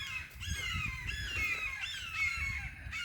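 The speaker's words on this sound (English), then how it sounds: "There was a bird just making a ton of noise." A sizeable bird squawks and caws harshly in repeated, agitated bursts, loud and close, calling continuously for a few seconds outdoors with no talking.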